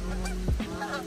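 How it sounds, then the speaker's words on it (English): Geese honking at a river and pond fishing spot, a short burst of calls heard fairly close over a steady background hum. "Here come the geese."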